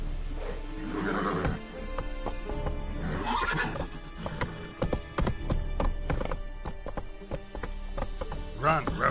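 A horse in The Witcher 3 gallops with steady clip-clopping hooves and repeated neighs and whinnies, loud and close throughout.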